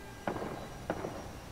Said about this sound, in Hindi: ऊपर से गोली चलने की आवाज आई